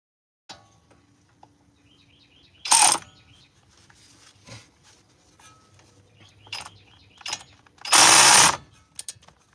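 A ratchet tightens wheel hub bolts on a car with scattered mechanical clicks and two loud, harsh bursts of rapid ratcheting, recorded close with quiet gaps between.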